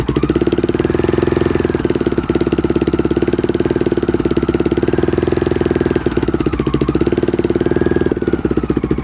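A 1987 Honda XR600 single-cylinder motorcycle engine running as it warms up, a loud, close, steady thumping idle with a slight wavering in speed, heard alone without talk.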